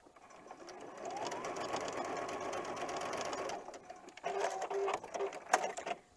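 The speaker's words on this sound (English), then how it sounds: "All right, so I have sewn from corner to corner." A sewing machine stitches a quilt block from corner to corner in a steady, close whirring run of about three and a half seconds, then stops. Shorter bursts of stitching and light handling clatter follow.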